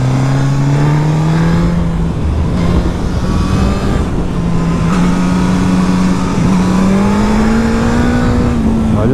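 A 2021 Suzuki GSX-S 1000 motorcycle engine pulls hard up through the revs, its steady loud drone climbing in pitch across the run, heard close with wind noise and no talking.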